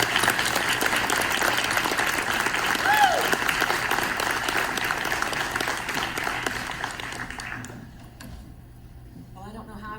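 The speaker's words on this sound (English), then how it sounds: "If we could please have a huge round of applause for Mary Ann." A large audience applauds a keynote speaker at the Ohio Valley 3rd Annual Brain Ball, a dense, steady roar of clapping that holds for several seconds, then thins and fades toward the end.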